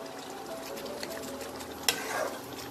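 Fresh cubed paneer hitting a pan of hot oil gives a soft, steady sizzle with faint stirring, one sharp clatter partway through, then a brief swell of frying.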